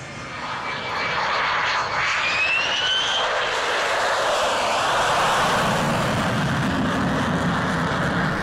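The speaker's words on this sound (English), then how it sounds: "This US Air Force KC-10 extender wasn't a part of RIAT proper, but served as a support aircraft" A US Air Force KC-10 Extender tanker at an air show roars past, its jet engine noise swelling from a rising whine into a broad, loud sustained rumble that holds steady to the end.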